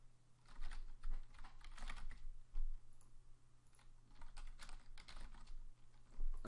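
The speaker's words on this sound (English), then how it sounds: "I have a Japanese keyboard, so I will just," Fast, steady typing on a Japanese computer keyboard, dense close-up key clicks in continuous bursts with brief pauses, alone over a faint electrical hum.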